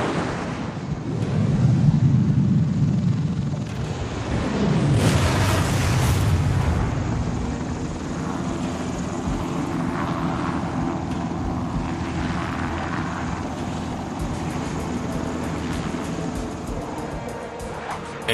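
An armed Sikorsky X2 technology aircraft attacking, with a loud engine roar up front and a heavy explosive burst near the middle, fading into a long rumbling wash.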